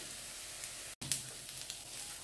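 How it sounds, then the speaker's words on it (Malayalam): Grated coconut frying in a pan over a medium flame for a Kerala-style spicy beef curry, a steady soft sizzle with a brief gap and a faint stir or clink, close and quiet with no voice. "ഒരു മീഡിയം തീയിലിട്ടിട്ട് വേണം വറുത്തെടുക്കാനായിട്ട്."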